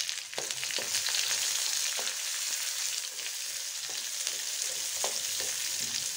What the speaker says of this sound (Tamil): கடுகு வெடிச்ச உடனே நம்ம கட் பண்ணி வச்சுருக்கிற பூண்டை போட்டு நல்லா வறுக்கணும்.